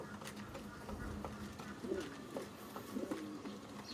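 A racing pigeon gives a couple of low, faint coos over a steady background hum, each brief and a moment apart.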